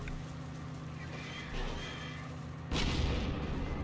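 Gunfire in the online war game Heroes & Generals, with steady distant battle noise and engine hum, then a loud nearby shot and a rumbling blast near the end.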